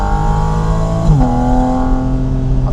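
A Porsche Spyder RS engine revs loud and close inside the car, its steady harmonic drone dipping briefly then climbing again into a sustained higher pitch with no talking.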